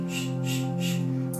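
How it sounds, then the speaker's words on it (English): Breath pushed out through the mouth in a soft shushing exhalation, three airy close pulses of hiss over a steady low hum. "We take an inhalation through the nose and then we shush the breath out"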